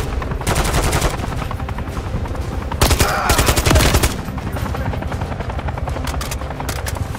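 Gunfire from the video game Call of Duty Modern Warfare 3 rattles in rapid automatic bursts, loud and close, mixed with a helicopter's thudding rotor drone, with a dense, heavier volley in the middle.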